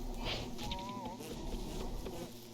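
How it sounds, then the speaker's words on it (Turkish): Bees summoned by Wickerbottom's book in Don't Starve Together, a close steady buzzing drone of several insects humming together with small pitch wobbles, no talking over it. "Bir Queen'in yanında çıkan arıları kendimiz için çağırırız"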